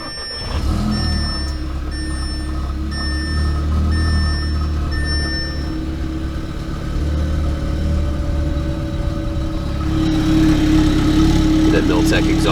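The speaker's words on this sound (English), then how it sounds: "That Miltech exhaust growling back there" Cold-started Audi A3/S3 MK7 with a Milltek exhaust, a steady deep growl at idle holding even and fairly loud throughout, rising slightly near the end, with a voice talking over it.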